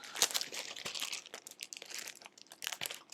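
Sheets of printed paper for card making being handled and shuffled up close, a run of soft crinkles, rustles and brief crisp snaps, quiet and irregular.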